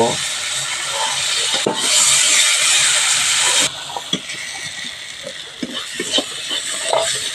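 A small splash of water poured into hot spice masala in a pan, bursting into a loud sizzling hiss for about two seconds, then fading to soft scraping and stirring sounds.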